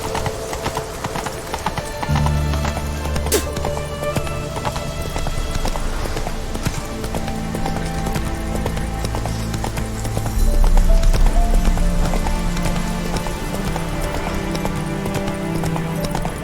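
Hooves of Roach, a horse in a video game, beating a steady, rapid clip-clop at a gallop under layered game music, growing louder partway through.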